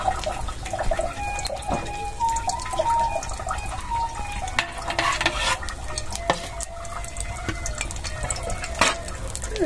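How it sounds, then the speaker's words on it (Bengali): Egg frying in a pan on a gas stove, a steady crackling sizzle throughout with occasional scrapes and clicks of stirring, close and moderately loud, no talking. "এই যে ডিম ভাজতেছে।"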